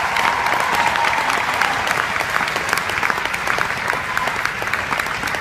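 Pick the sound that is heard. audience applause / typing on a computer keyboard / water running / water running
audience applause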